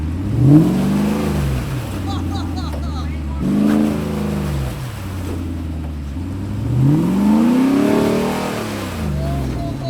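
A Jeep off-roading on an East Coast trail revs its engine in repeated rising and falling surges over slick rock, close and moderately loud, while people talk over it.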